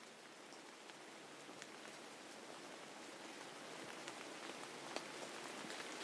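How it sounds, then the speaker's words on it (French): Steady rain falling with a broad, even hiss, scattered drops tapping nearby, no voices. "La pluie tombe."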